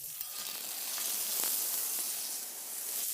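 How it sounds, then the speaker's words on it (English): Banana pancake batter fries in a hot pan with a steady, fairly quiet sizzle and hiss that holds level throughout, no voices. "Now we just fry the pancakes and then fill them with a bit of banana."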